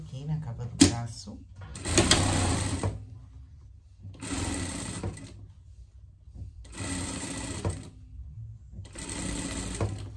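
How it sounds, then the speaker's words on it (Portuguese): A sewing machine stitches the armhole seam of a pet vest in four rapid whirring bursts separated by short pauses, close and clear, while a person speaks between runs. "a gente vai passar uma costura aqui na cava da manga, aqui na cava do braço"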